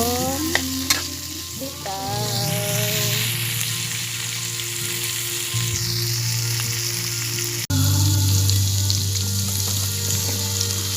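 Eggplant and sikwa sauté in a hot pan with a loud, continuous sizzle and frying hiss, joined by stirring scrapes and a sudden surge in intensity partway through, with no talk.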